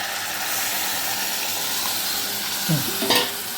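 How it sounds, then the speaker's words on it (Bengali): Hot water poured into frying vegetables in a pan, a continuous loud sizzling hiss that flares with a burst of steam and bubbling near the end. "এরপরে আমি একটু গরম জল দেবো"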